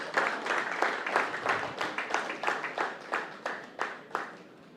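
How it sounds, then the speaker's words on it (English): An audience of about sixty people at a junior golf championship gives a round of applause: a steady series of crisp, rhythmic clap bursts, fairly close, with no talking over them. "give yourselves, please, a rousing round of applause"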